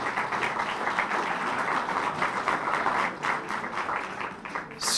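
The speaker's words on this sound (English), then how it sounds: "And give them a round of applause." A civic association audience applauds a speaker from Scripps Research with steady, dense clapping that holds at an even level for several seconds, with no talk over it.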